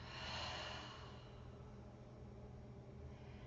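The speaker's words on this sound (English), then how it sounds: "take a big deep breath out of the mouth" A single deep breath pushed out through the mouth, a soft, breathy rush that swells early and then tapers into a faint, steady hiss, heard quietly and alone.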